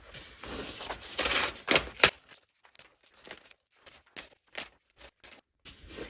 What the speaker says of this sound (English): So now I'm going to tear out 8 pages.